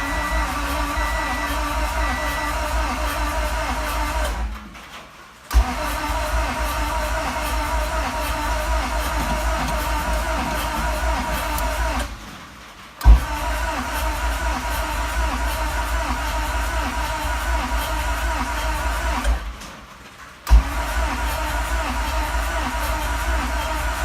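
A Honda H22 engine in an EG hatchback being cranked for its first start, with a steady, droning starter whir in repeated long bursts separated by brief silent pauses, heard close and without talk.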